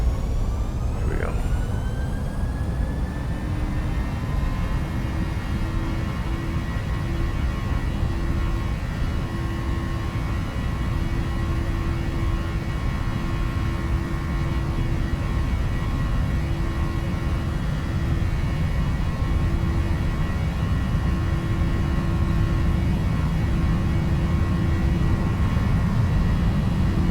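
A PMDG 737 airliner's jet engines in the FSX flight simulator run at takeoff thrust as a continuous loud roar with a steady whine, holding constant for nearly half a minute.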